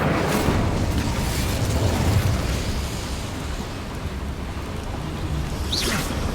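Incendio fire spell cast in Hogwarts Legacy, a loud continuous roaring whoosh of flame with rumbling low end lasting several seconds and a brief bright flare near the end, no talking.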